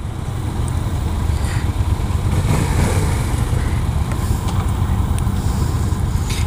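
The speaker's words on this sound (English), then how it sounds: "See that exhaust note right there?" A 2015 Yamaha FZ-07 motorcycle on a test ride, its exhaust note a steady, loud, low rumble with wind rush throughout and no talking.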